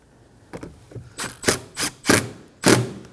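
Two screws driven into the plastic interior door panel of a 2017-2024 Nissan Armada, giving a series of short, close ratcheting and grinding bursts separated by brief pauses, with no speech.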